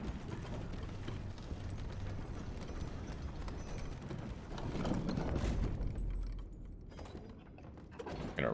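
An elevator moving in the video game Elden Ring: Shadow of the Erdtree, a continuous mechanical rumble with grinding and clanking, fairly loud, that drops away toward the end.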